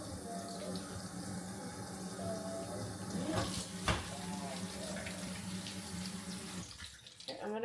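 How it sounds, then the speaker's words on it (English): A kitchen tap runs steadily into a sink while tomatoes are washed under it, the water splashing and shifting near the end. "Okay, I got my 2 tomatoes. I'm gonna wash these."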